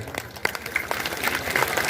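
An audience claps at a Bhagwat Katha religious gathering, a scattered, uneven round of applause that builds toward the end, heard fairly close.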